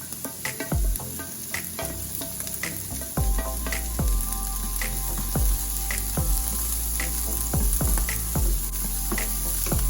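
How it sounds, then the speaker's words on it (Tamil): Mixed vegetables, red and green peppers and onion sautéing in a pan for veggie rice, a loud steady sizzle broken by repeated sharp clanks of stirring against the pan. "இப்போ எல்லா மரக்கறியும் நல்லா வதங்கிட்டுது. வெங்காயத்தால போடுவோம்."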